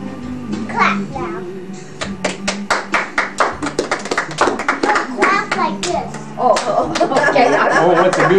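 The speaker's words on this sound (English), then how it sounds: "Clap now." Hand claps at a fourth birthday party, sharp irregular smacks that bunch into a rhythm around children's chatter and adult voices, fairly close and loud.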